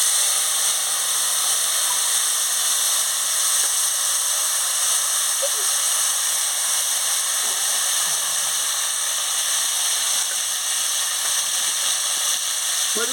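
Dried red chili and mustard paste tempering in hot oil while cooking a Bengali sour pangas fish curry with mango powder, giving a steady, even sizzling hiss that runs unbroken from start to finish at close range.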